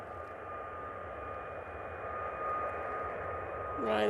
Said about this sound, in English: Ryanair 737 MAX, now on the roll.